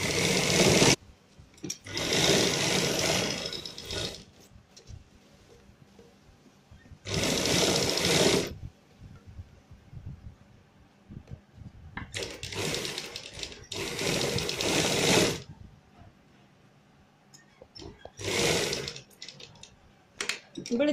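A sewing machine runs a rough basting stitch along a neckline in several loud, close bursts of rapid whirring, separated by quiet pauses while the fabric is adjusted.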